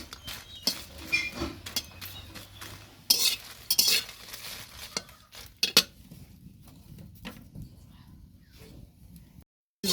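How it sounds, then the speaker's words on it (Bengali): Dried red chillies and bay leaves fry in a pan as spices for a raw tamarind pickle. A faint sizzle runs under repeated scraping and clinking of a spatula against the pan. The stirring is louder at first, then thins to quiet near the end. "প্রথমে মরিচ আর তেজপাতা ভাজে নিচ্ছি। আচারের মশলাগুলো ভাজে নেব।"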